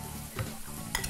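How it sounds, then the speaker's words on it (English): A hot stone bowl of bibimbap sizzles and crackles steadily, with a couple of scraping stirs of a utensil against the stone. "The sizzling bibimbap."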